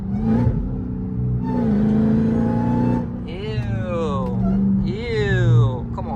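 A car engine whines and revs as it accelerates, pitch climbing in steady sweeps, with a voice talking over it partway through, during a race between a Dodge Demon 170 Charger and a BMW M4 Competition.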